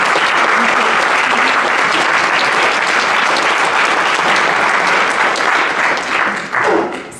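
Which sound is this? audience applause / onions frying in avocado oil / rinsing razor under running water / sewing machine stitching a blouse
audience applause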